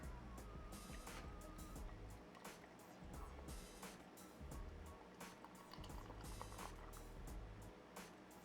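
Liquid gurgles and splashes steadily as beer is poured into a glass, close up, with a faint fizzing undertone.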